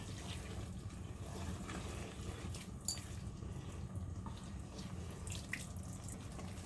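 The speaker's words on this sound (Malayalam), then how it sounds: "വെള്ളം ഒഴിക്കണമ്മ, വെള്ളം" Water pours steadily into a pan of fish curry with onion and tomato, a soft continuous splashing gush with faint drips, fairly quiet and without talk.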